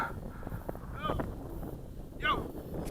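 Gusty wind buffets a microphone outdoors while an electric model plane flies, a soft rumbling rush with brief chirps and voice fragments breaking through at a low overall level.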